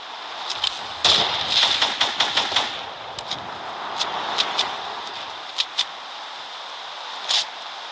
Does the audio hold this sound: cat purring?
no